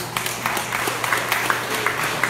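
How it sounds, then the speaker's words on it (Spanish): Scattered clapping from an audience at a political event in Pinotepa Nacional, Oaxaca, a steady patter of applause at moderate volume without voices. "Les pido un fuerte aplauso."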